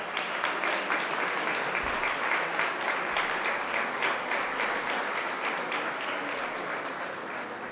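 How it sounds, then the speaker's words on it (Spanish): An audience at an award ceremony claps steadily for several seconds, a dense wash of many hands that stays even and then fades slightly at the end. "Les pido un aplauso para esta entidad colaboradora."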